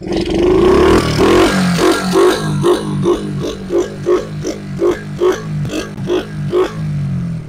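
A pit bike engine revs in short repeated bursts while the bike is held up on its back wheel, with a sustained rev at the start followed by a series of rhythmic throttle blips, loud and close.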